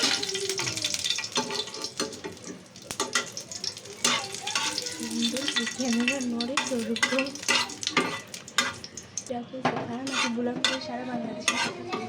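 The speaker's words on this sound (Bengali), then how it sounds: "প্রথমে আমি শুকনো মরিচটা ভেজে নিচ্ছি।" Dried red chillies fry in oil with spatula stirring, giving a crackling sizzle broken by repeated scraping and clattering strokes against the pan, with a voice speaking intermittently over it.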